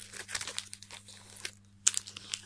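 Crinkly plastic rustling and shuffling of Pokémon Shining Legends card booster packs in quick bursts, close up, with a brief pause before a sharper crackle.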